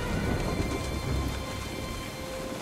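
Heavy rain pours steadily and thunder rumbles in a stormy scene from Jurassic Park: The Game, a dense, continuous downpour with low rolling thunder and no voices.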